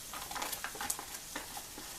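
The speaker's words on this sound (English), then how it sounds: "Starting to sizzle, good sign." Quiet crackling sizzle of chicken frying in a pan, a soft steady hiss with small pops scattered throughout.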